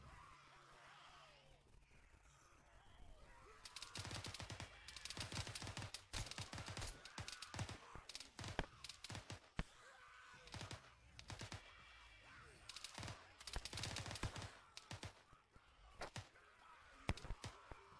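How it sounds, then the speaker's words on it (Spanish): Gunfire in The Division video game, with bursts and rapid volleys of machine-gun shots, some close and loud and some lighter, under quiet player chatter. "Abajo porque hay una ametralladora"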